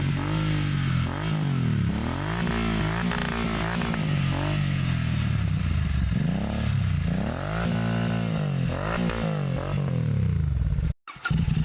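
A Royal Enfield GT 650 twin-cylinder motorcycle revs and pulls away while being ridden, its engine note rising and falling through repeated gear changes, loud and close throughout with no talk.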